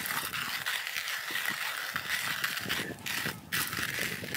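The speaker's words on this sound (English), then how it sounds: "with only 8 grams, you don't have a whole lot of grinding to do" Eight grams of coffee beans are ground in a Wacaco Minipresso GR hand grinder, giving a steady, close crunching and ratcheting texture with rhythmic mechanical clicks and brief pauses throughout.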